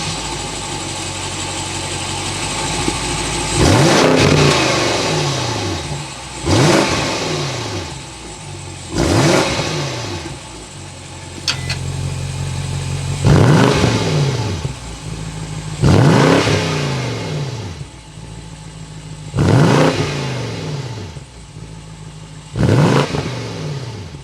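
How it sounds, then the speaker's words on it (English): Twin-turbo 4.4 liter V8 of a 2021 BMW 750i M Sport revved through its M Sport exhaust, six or seven loud sharp blips rising and falling back to a rumbling idle between them. "give it some revs just to hear how that M Sport exhaust sounds"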